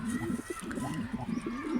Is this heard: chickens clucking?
no